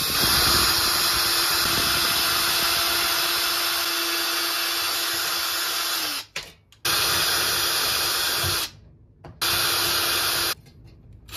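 A power drill bores a 3/32 pilot hole while a triple axle RC boat trailer is built, a loud steady whine that stops abruptly, then restarts in two short bursts separated by silence.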